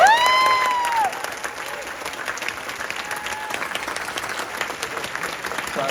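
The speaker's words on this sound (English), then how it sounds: "So give yourselves a round of applause." An audience at a movie screening claps and cheers loudly, with a whistle rising over the start and the applause fading slightly before it carries on steadily.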